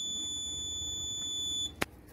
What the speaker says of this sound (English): sounds an alarm right by his ear, immediately waking up the driver